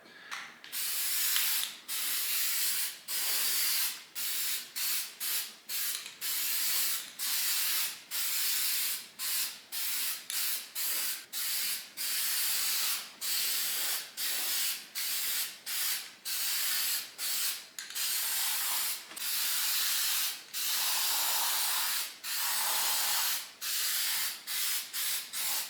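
Aerosol spray paint is applied to a metal electric baseboard heater in short bursts, a hissing spray starting and stopping in a steady rhythm, close and fairly loud.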